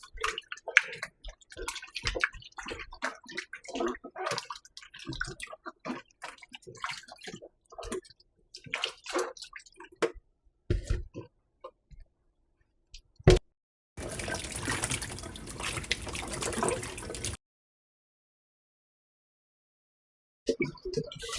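Fresh callaloo seasoning herbs are washed in a sink of water with a spoonful of baking soda, giving close splashing, dripping and tap-running sounds in bursts, then a few seconds of steady running water before silence.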